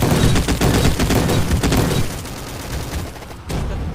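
Dual guns fire in the Roblox video game as a dense, loud volley of rapid shots for about two seconds, then thinner, quieter firing continues to the end.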